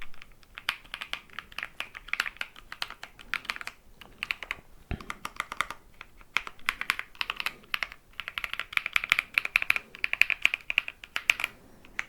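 Custom mechanical keyboard with creamy-sounding switches typed on up close in ASMR style, a quiet, fast, irregular patter of clacky keystrokes in bursts with brief pauses.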